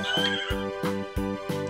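A toy farm scene with wooden sheds and horses, where a horse neighs repeatedly in a loud, close whinny with a rhythmic, stuttering series of pulses and no talk over it.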